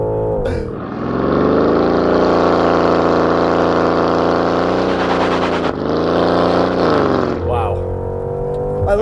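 A 2025 Porsche Cayenne GTS V8 pulls a launch-control start, its engine roaring loud and steady for several seconds, dipping briefly midway, then easing off, with voices faintly underneath.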